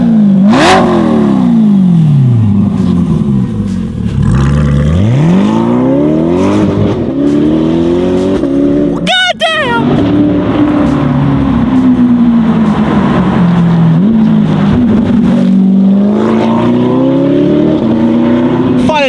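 A Corvette C8 fitted with a titanium exhaust revs loudly and close, the engine note sweeping up and down repeatedly, with a sharp crackle midway.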